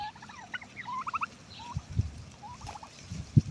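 Turkeys gobble in several quick, warbling bursts at moderate distance, fairly faint against a low outdoor background, with a couple of sharp, close knocks in between.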